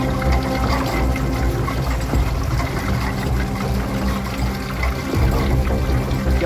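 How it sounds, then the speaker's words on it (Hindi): Water flows inside a solid rock on Mani Mahesh mountain, making a steady, continuous rushing sound that fills the whole stretch without letting up. No voices are heard. "फिर अंदर से पानी बहने की आवाज कैसे आ रही थी?"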